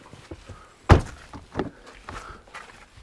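A single solid thunk of a BYD Han car door shutting, sharp and close, followed by a few softer knocks and rustles.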